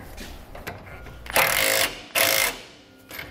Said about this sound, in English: snug down one of our nuts here to keep hold that position